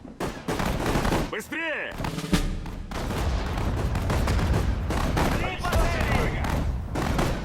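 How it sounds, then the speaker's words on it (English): Sudden Strike 4 battle during the siege of Leningrad, with artillery fire among dense gunfire: rapid shots and booming thuds crowd together in a constant loud barrage, with a whistling descending shell near the start and a brief shouted command. "So we got artillery support."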